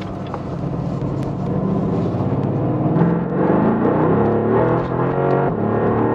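Mercedes-AMG GT R engine in Sport Plus mode, a loud, continuous deep roar heard from inside the car, its pitch climbing steadily as it pulls, with no talk over it.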